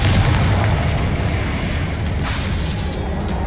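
A Confringo fire spell blasts in Hogwarts Legacy, a loud sustained rumbling explosion with heavy low-end boom that fades slightly over a few seconds, with no talking.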